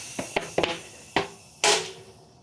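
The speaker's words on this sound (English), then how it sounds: "hopefully my Bontrager TLR flash charge pump will deliver a nice shot of air to pop this" A tubeless tyre snaps onto a rim with a shot of air from a Bontrager TLR Flash Charge pump, on a Chris King GRD23 all-road wheel: a few sharp close pops and cracks, ending in one louder burst with a brief hiss.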